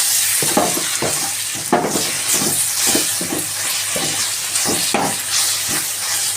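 Drumstick leaves frying in a pan give a loud, steady close sizzle, broken by repeated scraping stirs throughout.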